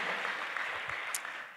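Church congregation claps in a sustained, fairly soft round of applause, even and continuous, with a faint voice briefly audible underneath.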